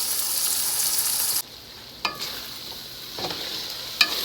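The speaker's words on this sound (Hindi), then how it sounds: "आप देख सकते हैं हमारा कीमा बहुत अच्छे से फ्राई हो चुका है।" Keema mince frying in a pan for a lasagna, a loud hissing sizzle that drops suddenly to a quieter simmer, punctuated by a few sharp stirring clicks, with no speech.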